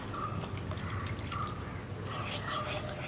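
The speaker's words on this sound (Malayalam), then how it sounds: "നമ്മൾ എടുത്തു വെച്ചിരുന്ന വെള്ളം ഉണ്ടല്ലോ, മാങ്ങയിൽ നിന്ന് ഇറങ്ങി വന്ന വെള്ളം, അത് ചേർത്ത് കൊടുക്കാം" Mango brine, the liquid drawn out of the mangoes, poured into a mango pickle masala in a home kitchen. Faint, light dripping and trickling runs steadily throughout at low volume, with no voices.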